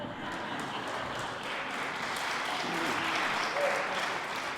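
Town hall crowd applauding, a continuous wash of many hands clapping at moderate distance, slightly swelling near the end, with faint murmurs underneath.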